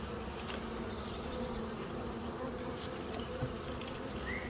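Honey bees hum in a soft, continuous buzz during a beehive colony inspection, a faint steady swarm drone with no speech over it.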